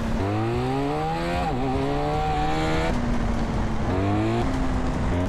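A BMW R1250 motorcycle ridden in the video game GTA San Andreas, a steady engine drone that rises in pitch through gear changes, dipping and climbing again, continuous and fairly close.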